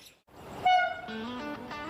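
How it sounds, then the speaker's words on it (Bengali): A Vande Bharat Express train horn sounds nearby in sustained tonal blasts, layered over the rumble of the train arriving at platform 3 of Bhadrak station. "দেখতে পাচ্ছ বন্দে ভারত ঢুকছে ভদ্রক স্টেশনে, প্ল্যাটফর্ম নম্বর 3-এ"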